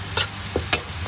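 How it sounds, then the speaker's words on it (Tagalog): A ladle stirs chicken tinola soup seasoned with fish sauce in a pot, giving two or three short scraping swishes with faint liquid movement over a low steady hum. "Siyempre hindi mo naman lahat iubos yung ating patis. O, diba? Haluin natin."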